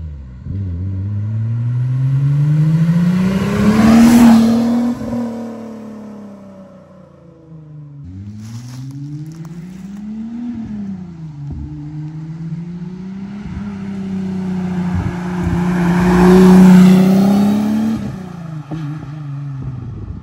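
Venturi LM260 supercar engine heard from outside, rising and falling through several loud revving sweeps as the car accelerates past and away, with no talking.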